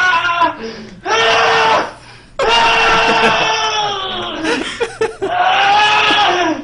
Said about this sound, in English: He's just screaming his head off.